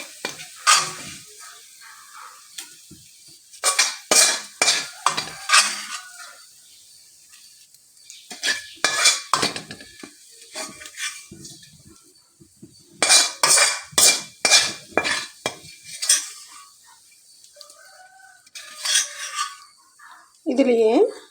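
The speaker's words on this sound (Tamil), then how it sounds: "இப்போ நாம் இதை வந்துட்டு வேறு ஒரு பிளேட்டுக்கு மாற்றிடலாம்" Fried food is scraped and lifted from a pan onto another plate, with repeated clinks and scrapes of a utensil against metal in bursts between quieter pauses, over a faint sizzle.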